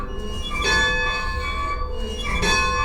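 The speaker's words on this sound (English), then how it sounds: "a beautiful 110-year-old train engine out front, complete with a bell you can ring" A bell on a 110-year-old train engine is rung by hand, sounding two strong, sustained metallic rings with a long ringing decay, close by and without talk.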